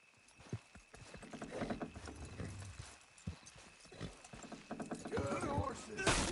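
Horses' hooves clip-clop at a steady gait with an occasional neigh in Red Dead Redemption 2, heard beside a companion rider and other game sounds, building louder toward the end.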